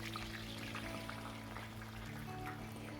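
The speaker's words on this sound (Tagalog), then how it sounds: "Ngayon nagprito na ako ng sibuyas." Onions frying in a pan for an Arabic curry-like meat dish, a soft steady sizzle and crackle under a low background hum, faint and continuous without speech.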